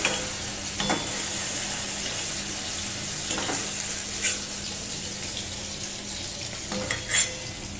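Prawns fry quietly in a kadai and are stirred, giving a soft, steady sizzle broken by a few scraping stirs.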